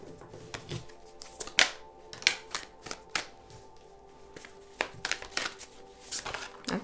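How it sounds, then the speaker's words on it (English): Tarot cards handled and taken out one after another, with sharp flicks, slaps and rustles arriving in irregular bursts close by. "I'm going to get all the cards out."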